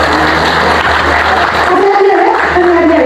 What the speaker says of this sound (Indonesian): baik tepuk tangan untuk kita dulu semuanya.